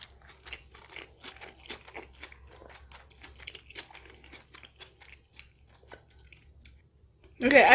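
Someone chews a crispy McDonald's salmon burger close to the mic, a steady run of soft crunchy bites and chewing for several seconds before a loud rustle at the end, with no talking over it.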